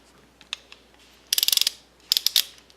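Clicking of a ratchet from a Bostitch 205-piece mechanics tool set, a few scattered ticks and then two quick runs of rapid ratcheting clicks, close and crisp.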